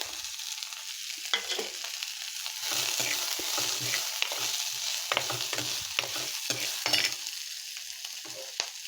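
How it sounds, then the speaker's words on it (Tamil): Onions and curry leaves sauté in a pan until brown, giving a close, crackling sizzle broken by repeated scraping stirs of a spoon, moderately loud and without speech. "ப்ரௌன் கலரில் ஆகிற வரைக்கும் நம்ம வந்து இது நல்லா வதக்கிக்கலாம்"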